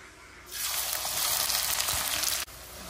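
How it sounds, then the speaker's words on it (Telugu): Onion pieces drop into hot oil in a pan and set off a sudden, loud, steady sizzle up close. A brief clatter sounds near the end as the frying continues. "ఇప్పుడు ఉల్లిపాయ ముక్కలు వేస్తున్నాను"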